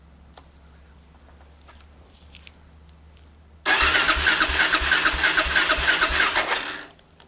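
A Suzuki ATV engine, idle for five years, cranks and catches after a quiet pause, then runs with a loud, steady, throbbing idle before cutting off near the end.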